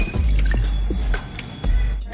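Millet grains are swished and rinsed in water, with close sloshing, drips and small liquid splashes in quick bursts over steady background noise.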